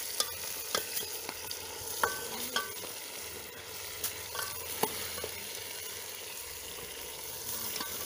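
Village chicken curry fries in a pan while chili powder is stirred in, giving a steady sizzle broken by regular scrapes and taps of a spoon against the metal.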